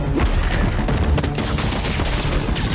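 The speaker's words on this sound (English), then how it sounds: "Bitch is trying to shoot me." Enemy gunfire in Marvel's Spider-Man 2, a loud sustained barrage of rapid shots and booming impacts filling the whole moment without letup.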